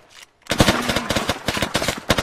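Rapid bursts of automatic gunfire from the military shooter ARMA 3, loud, sharp cracks in quick succession after a brief quiet start, with no talk over them.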